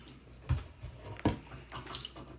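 Eheim canister filter parts being rinsed under tap water, with a wash of running water broken by a couple of sharp knocks and splashes as pieces are handled, close and moderately quiet.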